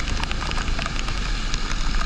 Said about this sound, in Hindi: यहाँ पर पिछले इलाकों से थोड़ी तेज़ बारिश है